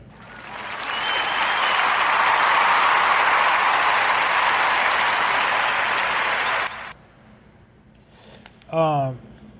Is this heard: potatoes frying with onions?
no